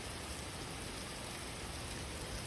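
Light, continuous rain falls over an entire city in a steady, even wash of fine patter that holds at the same moderate level throughout, with no voices or other sounds.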